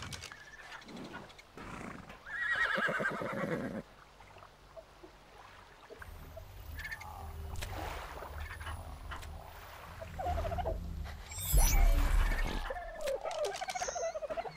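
Wild horse in the video game Dinosaurland giving a loud neigh close by, the whinny rising over rumbling game ambience and other creature noises.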